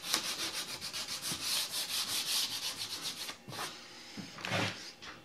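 Sandpaper rubs by hand over wooden parts of a horizontal mortising machine build, knocking off splinters in fast, steady back-and-forth strokes, close and fairly loud, with a few brief pauses between passes.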